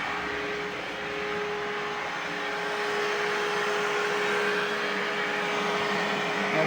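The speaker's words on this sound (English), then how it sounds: "So we're going to turn the vacuum on." A vacuum seed winnowing machine runs with a steady, even whirring hum and a faint tonal whine, a fairly quiet continuous drone with no voices.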